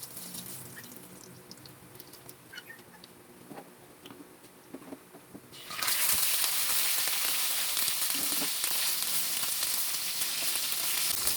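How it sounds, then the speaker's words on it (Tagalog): Tulingan fish frying in a pan: a quieter stretch of faint pops and kitchen clatter, then a loud dense sizzle surges up and holds steadily, with no talking. "naprito na po natin ang ating isda"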